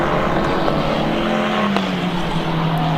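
Formula 4 race cars scream down the start-finish straight at BalatonPark, a loud sustained engine note with a pitch that drops steadily as they pass, no talking.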